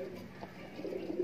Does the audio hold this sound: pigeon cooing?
yes